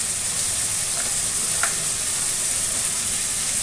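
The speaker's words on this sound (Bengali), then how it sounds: "টমেটোর সঙ্গে সঙ্গে মশলাটাও কষানো হয়ে যাবে" Tomato and spices with ginger paste sautéing in a pan for a fish-head chhachra curry give a steady, close sizzling hiss throughout, with one faint tap near the middle and no talking.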